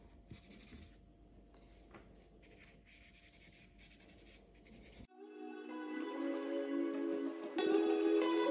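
Soft scratchy strokes of an alcohol marker on paper, close and quiet, shading shadows on a drawn plate, followed by a steady tonal background that grows louder.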